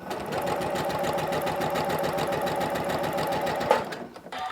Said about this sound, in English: As long as your stitches are going to catch that fabric in a bit from the edge, you're good.